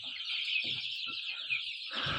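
Two white Brahma chicks peep in a continuous, thin, high chatter close by, with a few soft low bumps underneath.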